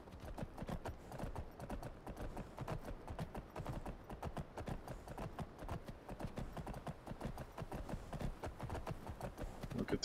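Horse hooves in Skyrim Special Edition: a quiet, steady clip-clop trot with dense, even beats and no pause, heard on its own.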